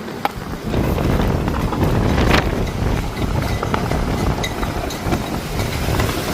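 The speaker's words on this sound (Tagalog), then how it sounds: "sobrang lakas ng hangin." Strong wind roars steadily and loudly, buffeting the microphone with gusty rumbling throughout, no voices present.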